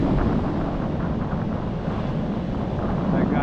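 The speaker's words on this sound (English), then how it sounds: "look at the waters, how rough it is in this area, the shoreline. So steep, and so choppy. Pretty big waves too." Rough, choppy surf breaks against a steep shoreline near Titusville, Florida, producing a constant, loud roar that blends with heavy wind buffeting the microphone.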